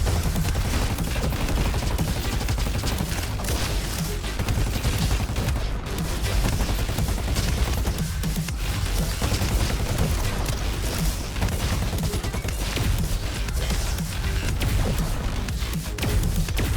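A flak cannon shotgun blasts away in a VR shooter, a dense, continuous barrage of loud booming shots and crashes with no letup, no voices present.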